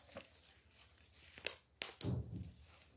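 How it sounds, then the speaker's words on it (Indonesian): Paper masking tape being handled gives sparse crinkles and a few sharp tearing rips, close and fairly quiet, with no voices. "Nah ini pakai ini lakban kertas gini nih"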